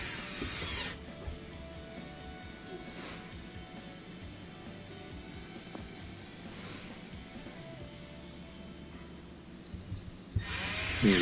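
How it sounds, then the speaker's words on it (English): A power screwdriver drives Phillips head screws on a Frigidaire dishwasher, a steady close whirring buzz that runs for about ten seconds, then rises in louder bursts near the end. "tighten up those Phillips head screws"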